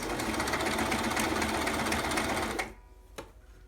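An embroidery machine runs steadily with a dense mechanical whir, then stops abruptly, followed by a single faint click in the quiet.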